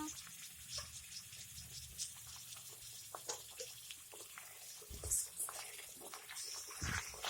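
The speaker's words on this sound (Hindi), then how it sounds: "फिर इसमें हम शामिल कर देंगे कीमा" Minced meat keema fries in a karahi, producing a soft, continuous sizzle with faint scraping and a few light knocks, fairly quiet throughout.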